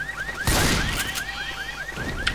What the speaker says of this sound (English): Yes, the alarm's already going off.